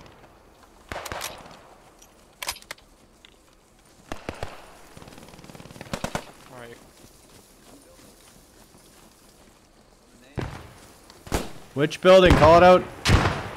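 Gunfire in the World War II shooter Post Scriptum: scattered sharp shots at intervals, some distant, with a louder cluster of cracks near the end, under intermittent voices talking over radio.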